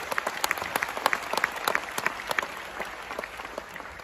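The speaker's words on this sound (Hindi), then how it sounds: "अब तक की सबसे जोरदार ताली होगा इस कंपनी के लिए।" Audience applause for a company at a business achievers' function in Jaipur, a burst of lively, uneven clapping that peaks early and gradually thins out, heard at moderate distance without speech.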